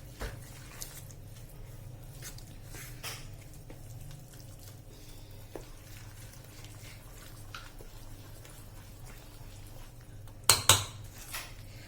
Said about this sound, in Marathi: आता हे सर्व आपल्याला छान हलवून घ्यायचं आहे एकजीव करून घ्यायचं आहे